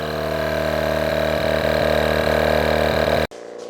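A Temu 12V tyre inflator compressor pumps up a 4x4 tyre from flat, giving a loud, close, steady motor drone with a fast rhythmic pulsing that cuts off abruptly near the end.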